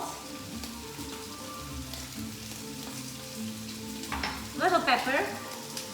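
Lamb sizzling and frying in olive oil in a pan, a steady crackle throughout that swells louder and busier near the end as something is stirred in, with a brief word spoken.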